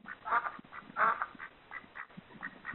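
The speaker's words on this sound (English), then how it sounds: "Oh yeah, you got to get your ducks." Ducks quack repeatedly in a loose, uneven series, heard faintly over a narrow, telephone-like line with a muffled, tinny tone.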